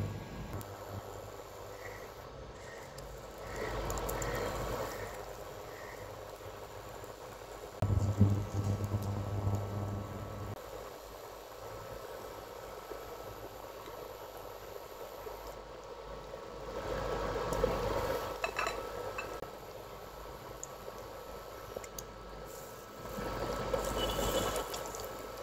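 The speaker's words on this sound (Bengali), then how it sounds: "এরকম করে আমি এখন এটাকে তেলের মধ্যে ছেড়ে দেব" A slice of bread coated in egg fries in hot oil, giving off a low, continuous sizzle with a few louder surges. The frying stays fairly quiet and steady for about twenty-five seconds.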